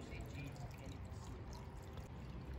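Quiet water trickling in a World War 2 themed video game, a faint continuous pouring and dribbling with soft drips, low in level against background game ambience.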